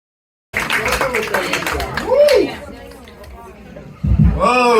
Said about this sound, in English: Big applause for Will Romano.